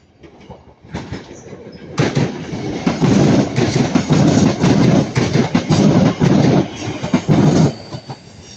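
A class 323 electric train on the Manchester Piccadilly service passes close by at Ardwick, rising abruptly into a loud rush of wheels with rhythmic clickety-clack joints and some squeal, then fading after several seconds.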